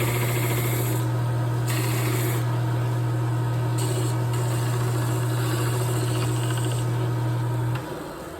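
A belt and disc sander running with a steady low motor hum and whirring belt, loud and continuous, then the motor cuts off near the end as the machine winds down.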